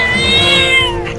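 Small cats meowing in a long, drawn-out wail that rises and falls, loud and close, with no talk over it.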